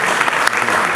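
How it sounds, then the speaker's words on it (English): An audience at a panel talk on art, culture and peace breaks into loud, close, continuous applause, a dense wall of clapping throughout the brief moment. "je tiens également à vous demander de vous applaudir"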